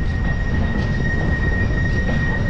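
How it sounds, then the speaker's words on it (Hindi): Farakka Express train passing, a loud continuous rumble of wheels and carriages close by with a thin steady whine on top, unbroken throughout. "फराक्का एक्सप्रेस देखो"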